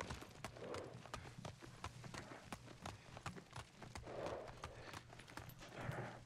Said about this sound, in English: Weird walking a horse upstairs